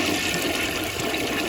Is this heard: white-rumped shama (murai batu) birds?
no